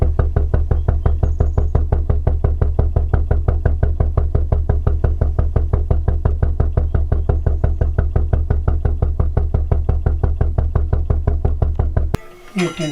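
A slow-running engine sounds close at its exhaust as a loud, even train of rapid thudding pulses that holds a steady rhythm for about twelve seconds and then breaks off.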